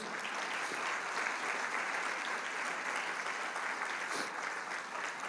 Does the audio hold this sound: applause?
yes